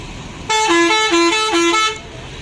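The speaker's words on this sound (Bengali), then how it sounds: "মদন বাস স্ট্যান্ডে এসে পৌঁছলাম।" Bus horns blare at Madan bus stand, a loud tonal honk sounding in three repeated blasts in quick succession, alone with no talk.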